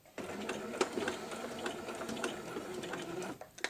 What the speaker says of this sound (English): we're going to head over to the sewing machine and we're going to stitch this down